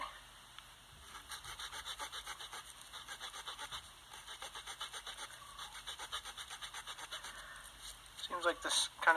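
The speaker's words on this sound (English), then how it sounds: "we're going to cut another notch on here and fit that together" A Victorinox Farmer pocket knife's small saw cuts a notch in green birch, making a steady, rhythmic back-and-forth rasp of many quick close strokes, with a brief louder scuffle near the end.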